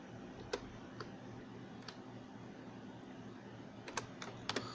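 Quiet, sparse clicks of typing on a computer keyboard: a few scattered keystrokes, then a quick cluster near the end, over a low steady background hum.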